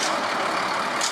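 Trucks loaded with deer head off toward the OCEF in New Caledonia, giving a steady, moderately loud engine and road rumble that fills the short moment.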